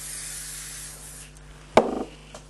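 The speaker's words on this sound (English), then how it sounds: "And before I attach that one, I'll spray again." Butter-flavoured cooking spray spritzed onto layered pastry sheets for a no-bake ricotta cheesecake gives one short, close hiss after a quiet stretch, fading quickly into a faint rattle.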